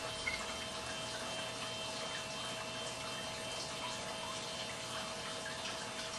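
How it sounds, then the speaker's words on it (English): Water pours in a steady, continuous stream onto sodium polyacrylate crystals, a soft hissing trickle that holds even throughout with no talking. "And now we're going to add some water."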